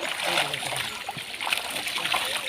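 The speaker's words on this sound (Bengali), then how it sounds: "আমাদের গ্রামে এইভাবেই বড় জাল দিয়ে পুকুর থেকে মাছ ধরা হয়" Pond water splashing and sloshing steadily as a big net is hauled through a village pond to catch fish, a busy close wash of churning water with voices mixed in.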